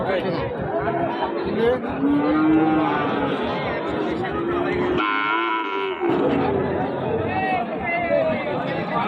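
Cattle lowing at a busy livestock market, several loud moos near and far over a crowd of people chattering throughout.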